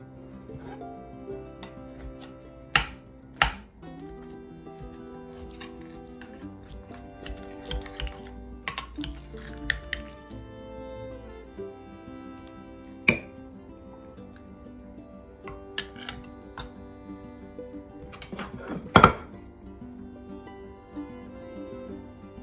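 Serving spoons clink against a dish as a baked gluten-free green bean casserole is scooped out, a few sharp scattered clinks and scrapes standing out over a steady music bed.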